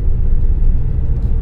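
A car climbing a steep mountain road toward Nubra Valley in Ladakh, engine and road rumble steady, loud and continuous throughout, no voices.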